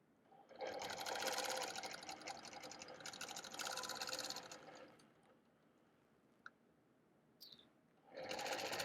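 A sewing machine stitches in the ditch on a guitar quilt, a rapid mechanical chatter in several bursts separated by brief quiet stretches.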